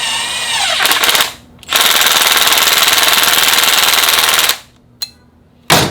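Pneumatic impact wrench run on a copper-gasket V-band clamp: a short loud rattling burst, a brief pause, then a long sustained hammering buzz lasting about three seconds, followed by a quick blip and a final short burst.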